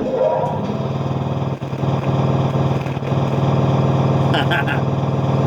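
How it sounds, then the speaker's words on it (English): An air compressor motor starts up and runs with a steady, loud mechanical drone that fills the whole stretch, with voices talking over it. "Oh, I gotta start the air compressor."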